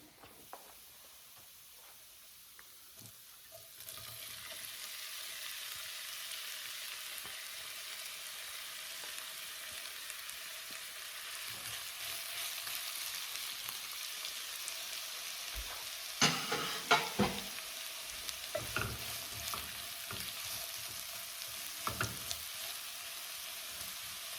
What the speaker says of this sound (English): I think we're ready now to add the bitter melon